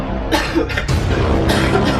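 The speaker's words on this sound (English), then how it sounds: "No, that was a cough." A few harsh coughs from a person with COVID-19 come in quick bursts, close and fairly loud, with short pauses between them.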